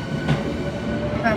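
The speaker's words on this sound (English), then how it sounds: "After a short ride on the train, I'm in Suita" A passenger train in Japan rumbles steadily toward Suita, heard from inside the carriage with a constant roar and a faint rising squeal near the end.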